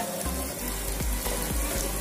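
Amriti sweets frying in hot oil give a steady close sizzle, broken by several regular low knocks and swishes about every quarter second, with no talking.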